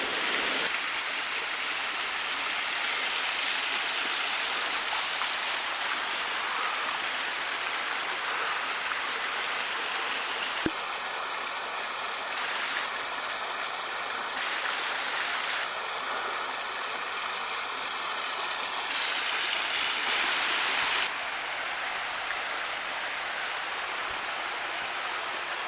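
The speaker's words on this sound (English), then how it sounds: "beautiful little waterfall number 2." Steady rushing water from a small waterfall along a hiking trail at Lake Rabun, a constant broadband hiss heard alone at moderate distance.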